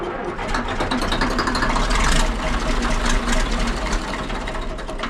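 The diesel engine of a 1959 International dozer turns over as it tries to start, a loud, steady, rough mechanical chugging close by with a low rumble that swells slightly midway.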